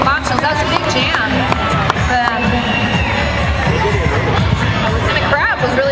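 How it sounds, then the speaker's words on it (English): A roller derby championship crowd cheers loudly, a dense, continuous roar of shouting and babble that fills the whole stretch without a break. "And the crowd was really liking that."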